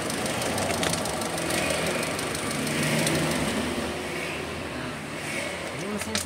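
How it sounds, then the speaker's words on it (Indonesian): A Suzuki T120SS engine runs with a steady low rumble, with someone talking over it and the sound fading near the end. "Ini mesin sudah saya matikan."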